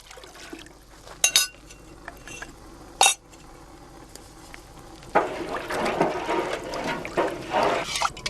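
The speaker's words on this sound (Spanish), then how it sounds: "Marie Noël vierte la lumbre y el cremor tártaro en el caldero de cobre" Alum and cream of tartar poured into a copper cauldron of heated water for plant dyeing, heard as a sustained liquid rush and splashing over the final few seconds, preceded by a couple of sharp metallic clinks.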